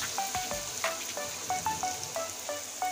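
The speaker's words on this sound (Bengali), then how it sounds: "এখানে আছে কুচানো পেঁয়াজ, এটা তেলের উপরে ছেড়ে দিচ্ছি।" Chopped onions hit hot oil for a Bengali rohu fish curry, giving a steady close sizzle with scattered pops and crackles throughout and no talk.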